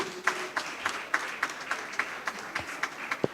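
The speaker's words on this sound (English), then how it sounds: "Please a round of applause for him." Light, steady clapping from a small crowd at an international conference, soft and somewhat distant, with rhythmic claps continuing for a few seconds.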